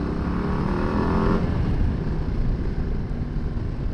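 A 2025 Harley-Davidson Low Rider ST in sport mode, its engine roaring steadily as the bike accelerates, with a rising tone in the first second and a half, then a loud sustained drone mixed with wind rush.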